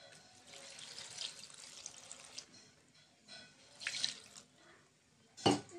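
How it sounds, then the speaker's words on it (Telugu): Water is poured into a pot of gongura dal while it cooks, a faint, soft trickle and splash with a sharper clink near the end. "కొంచెం వాటర్ వేసుకుందామండి."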